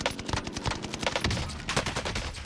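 Rapid automatic gunfire in a shooter video game, a dense stream of sharp repeated shots close by, with short bursts running together continuously.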